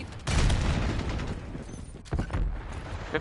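Grenade explosion in Call of Duty Black Ops 6, a loud booming blast with a rumbling tail and a second thump shortly after, amid ongoing gunfire.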